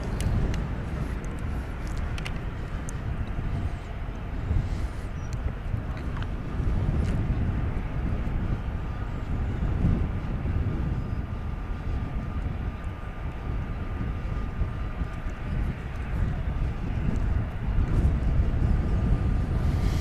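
Aircraft engines roar steadily at DFW Airport, a broad continuous rumble that swells and holds for the whole stretch, with some wind buffeting the microphone.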